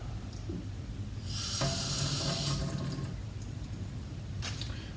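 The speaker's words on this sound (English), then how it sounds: "what we want to do is to wash the eggs off under a tap" Dyed eggs rinsed under a running tap into a sink, with water splashing steadily for a couple of seconds at moderate volume over a low background hum, then tapering off with a brief later splash.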